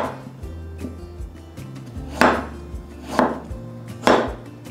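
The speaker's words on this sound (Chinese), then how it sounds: "把红萝卜切片" A knife slices a carrot on a cutting board, giving three distinct sharp chops with pauses between them over a low steady hum, close and clear, with no talking.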